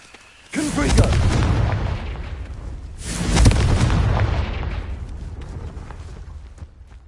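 A Confringo blasting spell in a Harry Potter video game goes off as two loud booming explosions, each with a rumbling tail that fades slowly, close and heavy.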